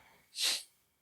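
A single sharp sneeze bursts out near the middle, bright and airy, with quiet before and after.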